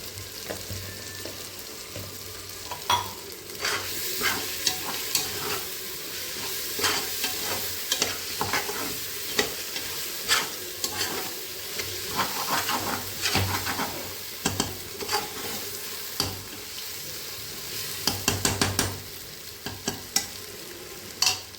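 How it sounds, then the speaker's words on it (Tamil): Chicken biryani being stirred and fried in a pot over a medium flame, with turmeric added: a steady close sizzle under repeated scraping stirs and occasional clinks of the pot, with no voices. "கிண்டி விட்டுட்டே இருக்கணும், அடி பிடிச்சிடக்கூடாது."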